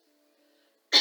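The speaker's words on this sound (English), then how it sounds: "Excuse me, coughing." A single sharp cough bursts out at the very end, after near silence with only a faint low hum, from someone leading a hatha yoga class.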